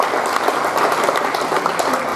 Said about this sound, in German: Das ist Applaus für die Gratulation.